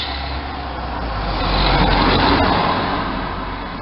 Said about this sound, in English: sorry about that passing car